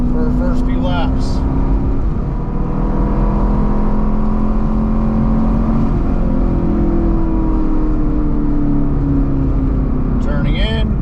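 A BMR-equipped sixth-generation Camaro lapping a road course, engine droning loud and steady from inside the car with shifting pitch through throttle changes, under near-continuous talk.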